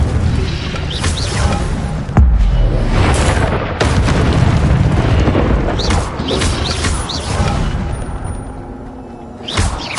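Fiery spell blasts in a Hogwarts Legacy game, a dense run of booming bursts and crackling whooshes layered over continuous rumbling action, loud and close throughout with several sharp onsets.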